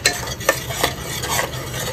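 Marinated mutton stirred into sizzling dry red chilli masala in hot oil, with a spoon scraping the pan in quick repeated strokes over a steady close sizzle.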